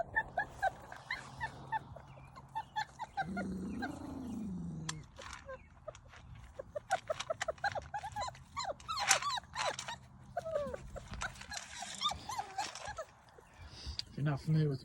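Four-week-old giant farm and ranch stock dog puppies whimpering, yelping and whining in a rapid, uneven series of short calls, with one longer moaning cry near the start and occasional talking.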